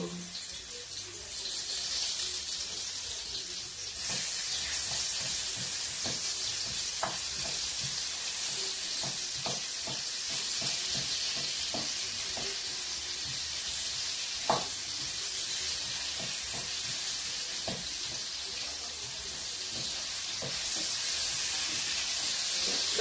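Onions fry with chicken gizzards in a pan, giving a steady, bright sizzle with occasional clicks and stirring scrapes, softly rising toward the end.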